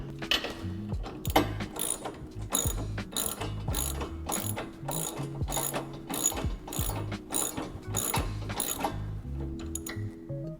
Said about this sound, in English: Let me put it on the wrench